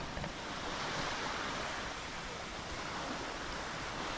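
Sea waves wash steadily against the shore below Malabrigo Lighthouse in Batangas, a continuous broadband surf roar with no pauses, fairly close and loud, with no voices over it.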